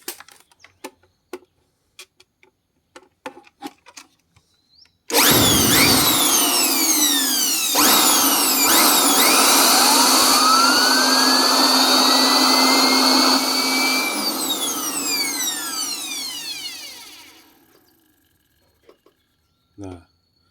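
A few sharp clicks, then a loud high-pitched whine rises and sweeps as an H1C turbocharger spools up, holding strong before winding down and fading.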